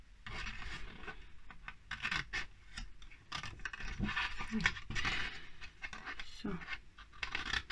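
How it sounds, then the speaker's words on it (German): Scissors snipping away the fold lines of a paper craft frame, soft, close rasping and scratching strokes in an irregular rhythm, with a voice speaking briefly. "Also ich schneide mir die Markierungsfalz weg."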